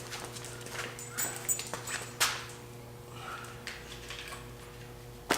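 A dog named Piper shuffles and taps around a workshop during a truck install, giving scattered light footfalls and clicks over a steady background hum, with one sharper knock partway through.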